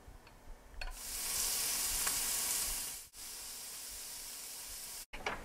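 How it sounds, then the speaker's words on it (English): Bacon frying in a large skillet on medium-high heat, a bright hissing sizzle that swells in, holds steady, then cuts out briefly twice, with a few faint clicks and no talking. "In a large skillet on medium-high heat, we're going to cook the bacon until crisp."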